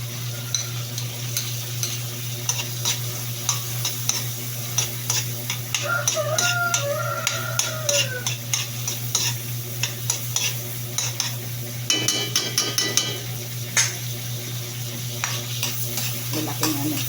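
Onion frying in margarine in a pan for buttered garlic shrimp, a steady crackling sizzle with frequent stirring clicks and scrapes, close and continuous, a low steady hum underneath and a brief chirpy sound in the background.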